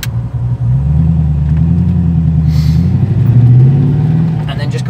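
A Morgan Plus 8 with a cam upgrade, aftermarket ignition and ECU chip pulls away in first gear, its V8 engine droning loud and close, rising slightly in pitch before easing off.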